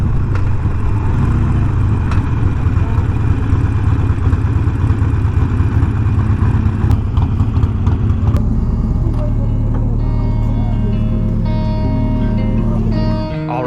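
Motorcycles, including a Harley Sportster, idle at a Distinguished Gentlemen's Ride gathering in Philadelphia, making a loud, continuous, close engine rumble that holds steady throughout.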